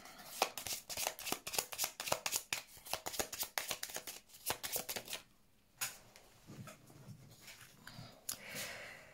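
Tarot cards shuffled in rapid bursts of crisp riffling and slapping, dense and close, then a pause and a few softer single card draws and handling sounds near the end.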